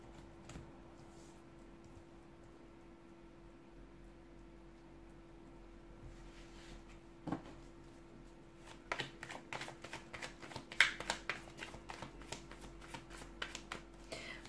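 A deck of tarot cards shuffled near the microphone, quiet soft rustling at first, then a rapid series of crisp riffling snaps over a steady background hum.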